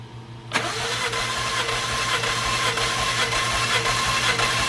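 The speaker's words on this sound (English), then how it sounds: "it's doing its auto crank" Ford F-150 2.7-litre engine auto-cranking during misfire diagnosis, starting with a sharp onset and then a steady, rhythmic cranking drone, close and moderately loud throughout.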